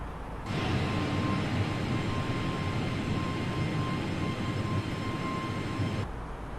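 Steady airliner engine drone at cruise near flight level 240 in Microsoft Flight Simulator, with a constant broadband rush and a faint high whine that starts abruptly, holds evenly for several seconds and cuts off near the end.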